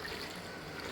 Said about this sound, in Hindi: मैं इसके ऊपर से 1 गिलास पानी डाल रही हूँ।